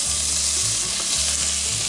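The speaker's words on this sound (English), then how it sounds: "We got a nice sizzle there already" Bacon sizzles and fries in a Dutch oven, a steady, loud crackling hiss of fat that fills the whole moment without any talk.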